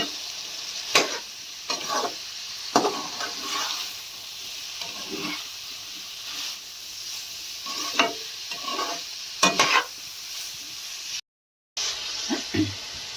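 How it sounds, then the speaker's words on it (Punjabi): Fried potatoes and cauliflower are stirred into roasted spices in a pan, with repeated scraping stir strokes every second or so over a soft sizzle, close up, no voices. "ਜਿਹੜੇ ਆਲੂ ਤੇ ਗੋਭੀ ਫਰਾਈ ਕਰਕੇ ਰੱਖੀ ਸੀ ਇਹ ਵਿੱਚ ਪਾ ਦੇਣੇ ਮਿਕਸ ਕਰ ਲੈਣੇ ਚੰਗੀ ਤਰ੍ਹਾਂ"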